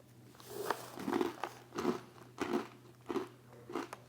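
Crunchy healthy snack mix of pretzel, cheese and cereal being chewed in close, loud bites, about six crunching bursts in a steady rhythm with short pauses between them.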